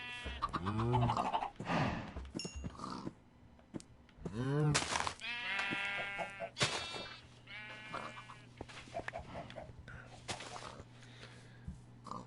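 Repeated wavering sheep bleats from Minecraft, several in a row at moderate loudness, with a low background hum and short animal calls between them.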